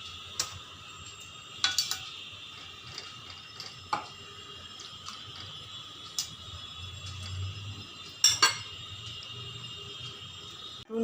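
A spoon stirs mango muramba, ripe mango cooking down with dissolved sugar, in a pot over a gas flame, with scattered scraping clinks and a few sharper knocks against the metal under a low bubbling background, close by.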